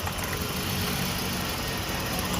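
Car engine idling roughly while misfiring on one cylinder from a faulty ignition coil, a steady close rumble with an uneven, shaky pulse and no talk.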